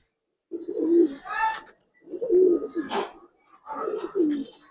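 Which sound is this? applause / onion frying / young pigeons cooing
young pigeons cooing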